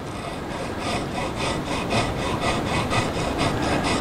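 A small file works a guitar nut slot in steady, even back-and-forth strokes, a continuous close rasping rhythm of roughly three strokes per second with no talk.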